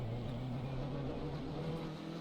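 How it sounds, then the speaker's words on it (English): Race car in a racing video game on the Circuit of the Americas layout, fighting for traction after a heavy braking move; a continuous buzzing engine note with wavering pitch as the car slides, moderately loud and free of voices. "you can hear the car struggling on traction there"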